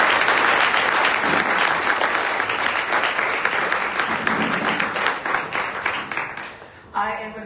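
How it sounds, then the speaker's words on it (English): An audience at a Nerd Nite talk night in Austin applauds its speakers, dense continuous clapping that stays loud, then fades near the end as a voice begins. "big round of applause for our speakers first of all"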